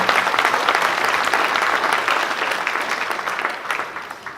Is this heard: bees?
no